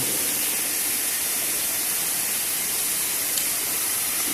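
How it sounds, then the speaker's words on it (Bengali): Mushrooms frying with salt in a pan over a high gas flame give off a loud, dense, steady hiss of sizzling that carries on unbroken throughout, close by. "লবণ দিয়ে ভালো করে মাশরুমটাকে একটু ভেজে নেব"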